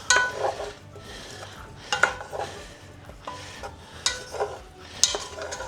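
Potatoes being stirred with butter, garlic and dill, a utensil scraping and rubbing against a pan or dish in repeated bursts, close and moderately quiet, with no talking.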